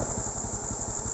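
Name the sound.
motorcycle engine running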